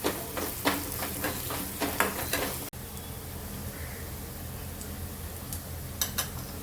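Turmeric sautéed in hot oil in a pan gives a constant soft sizzle and crackle, with a few spoon scrapes and stirring clinks early on, then steady frying noise with occasional light taps.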